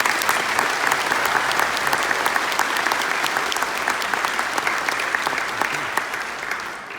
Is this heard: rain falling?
no